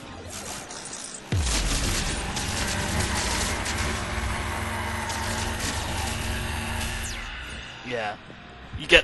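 A weapon firing in a sci-fi shooter game, a sudden loud burst that settles into a sustained dense roar of rapid fire and mechanical clatter, fading near the end.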